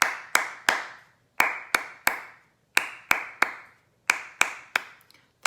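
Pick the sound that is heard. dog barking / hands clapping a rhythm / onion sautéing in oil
hands clapping a rhythm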